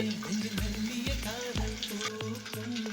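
Small onions sizzling in a pan while a ladle turns them, giving a steady fry hiss broken by several thumping, scraping stirs in a loose rhythm, close up.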